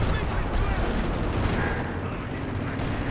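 Katyusha rocket artillery barrage in Company of Heroes 2, a continuous rumbling roar of launches and explosions filling the whole stretch under a commentator's voice.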